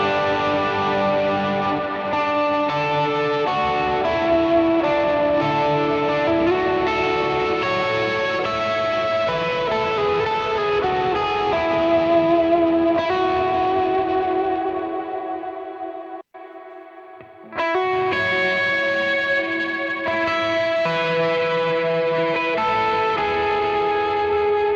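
Electric guitar through a stock cabinet impulse response, with reverb and delay, plays a sustained, loud, washy passage that drops to a brief near-silence before resuming, with echo trails and no talking.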